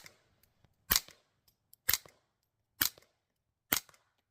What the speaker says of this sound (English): Here we go, CCI suppressor loads.